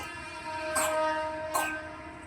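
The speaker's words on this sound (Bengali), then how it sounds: "এই দেখো ট্রেন যাচ্ছে।" A train rolls past a home near the tracks, with a steady humming drone and two short rushing swells as carriages go by, fairly close.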